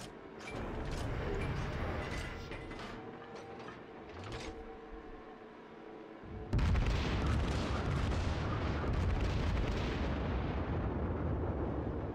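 Battleship Fuso's main guns firing in World of Warships: steady engine and sea rumble, then a sudden loud broadband blast that settles into a sustained roaring wash, no talk.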